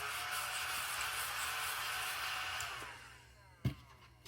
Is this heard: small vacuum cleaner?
yes